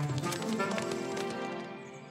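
Galloping horses in a Yakari cartoon, hooves clip-clopping quickly beneath a bright musical score, with the hoofbeats fading toward the end.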